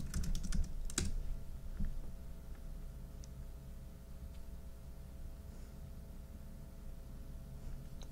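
A quick burst of keyboard keystrokes at the start, then quiet with a low background hum and a few faint stray clicks.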